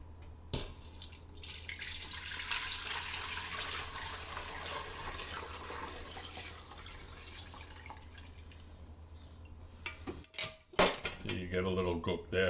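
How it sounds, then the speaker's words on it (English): Liquid stock pours through a fine kitchen strainer in a steady, close splashing trickle like running tap water, ending in clatter and handling of a pan, with someone speaking briefly near the end. "Got a fine strainer, and then we got to find a finer strainer. And we'll just run this a couple of times."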